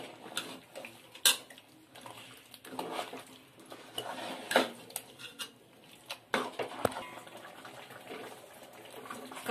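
Ground masala being stirred into a fish curry in a pan, irregular metallic scrapes and clinks of a spoon against the pan, close and uneven, with no talk.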